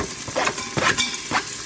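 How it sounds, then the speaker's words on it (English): Onions sauté in an Instant Pot, giving a close crackling sizzle broken by several quick stirring scrapes. "I'm going to start by adding the onions."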